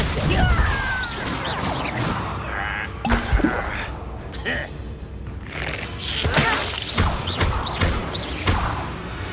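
Depulso force spell impacts in Hogwarts Legacy combat produce loud whooshes and crashing thuds that repeat several times among other busy battle effects.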